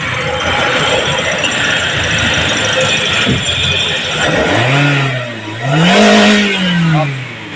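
A 2018 Toyota Vios engine is revved during a check-up. After a steady idle hum, the pitch climbs and falls twice in quick surges, loud and close, with a voice briefly speaking over the start.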